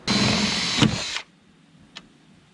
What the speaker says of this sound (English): grab our drill bit and go to town.